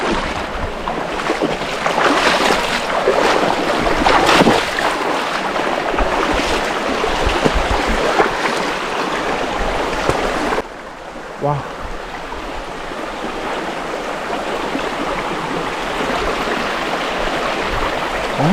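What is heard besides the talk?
river stream flowing over slippery stones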